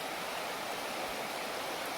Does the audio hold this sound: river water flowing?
yes